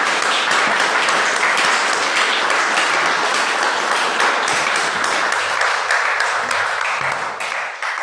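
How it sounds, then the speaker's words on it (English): A packed room at an annual membership meeting breaks into loud, sustained applause, dense crackling claps close by that thin out and fade near the end. "How about we all thank Roshi with a round of applause?"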